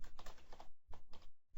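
Typing on a computer keyboard, with bursts of rapid, close key clicks separated by brief pauses and a few isolated louder keystrokes.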